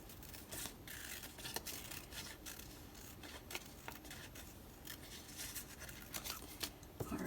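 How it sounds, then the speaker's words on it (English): Scissors loosely fussy cut a paper image for a Hobonichi Cousin Avec journal, a quiet close series of quick irregular snips and paper rustles with no talk. "I'll loosely fussy cut him out."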